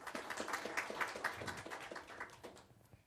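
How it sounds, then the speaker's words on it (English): An audience at a technical talk applauds speaker Mike Weber, a modest burst of clapping from a small crowd that is fairly faint and thins out toward the end. "give him a nice round of applause"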